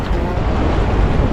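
Sea waves and surf roar loudly and continuously by the coast, blended with heavy wind buffeting the microphone.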